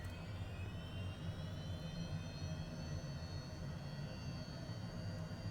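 Jet engine of the HJet aircraft in Microsoft Flight Simulator: a constant whining, whirring turbine drone with rising high-pitched tones over a low rumble. It is steady and quite faint.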